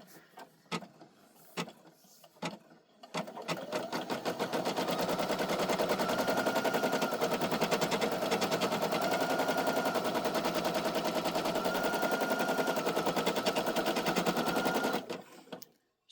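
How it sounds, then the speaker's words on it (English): A Brother SE1900 embroidery machine stitching out a patch, first giving a few separate clicks, then settling into a loud, steady, rapid mechanical chatter that runs for about twelve seconds before stopping abruptly. "So this here one actually takes 30 minutes to stitch out"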